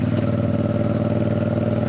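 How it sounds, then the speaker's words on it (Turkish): A 450 CLC motorcycle with an aftermarket exhaust idles on a cold day, a steady low, pulsing engine drone with even firing beats, close and loud with no talk. "Egzoz benim sesimi bastırmıyordu"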